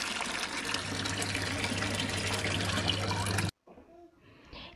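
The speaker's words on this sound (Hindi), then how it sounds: "सबसे पहले हम एक बाउल में पानी लेंगे" Water pours steadily from a tap into a container for a few seconds, a loud rushing stream that cuts off abruptly, leaving faint room noise.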